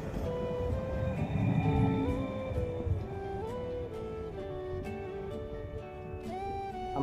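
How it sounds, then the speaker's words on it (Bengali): An electric train at Castelfranco Veneto station in Italy gives off a moderate, steady electric whine that shifts pitch in distinct steps over a low rumble, with no talking. "সবগুলোই ইলেকট্রিক ট্রেন।"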